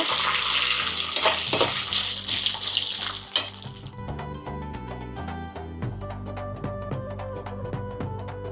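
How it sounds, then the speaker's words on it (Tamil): Dried red chillies, chana dal and urad dal frying for coconut rice: a loud, dense hissing sizzle at first that settles into steadier frying with rhythmic clinks and scrapes of a ladle against the pan. "இந்த செத்தல் மிளகாய் மற்றும் இது கடலை பருப்பு உளுத்த பருப்பு எல்லாம் போட்டு வதக்கி விட்டுட்டு"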